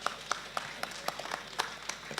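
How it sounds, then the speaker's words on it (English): Sparse applause at a forum event in a park, a small group clapping in distinct, fairly regular bursts, soft and a little distant, with no talking. "I think you should give Caleb a big round of applause"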